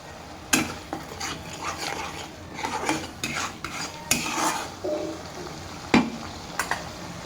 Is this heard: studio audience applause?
no